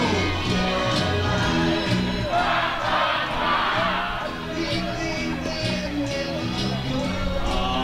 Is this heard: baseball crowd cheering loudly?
yes